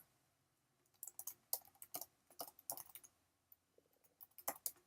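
A computer keyboard is typed on during coding work, giving quick bursts of crisp, close key clicks in irregular clusters with brief pauses between, fairly quiet and with no talking.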